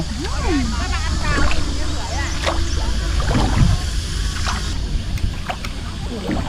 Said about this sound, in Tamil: இந்த போட்டில் எவ்வளோ அமைதியாக இருக்கு பாருங்க மேடம் இடம் வெறுமனே தொடுப்பு போடுற சவுண்டு மட்டும்தான் கேட்டுட்ருக்கு கேளுங்க